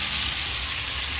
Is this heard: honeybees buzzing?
no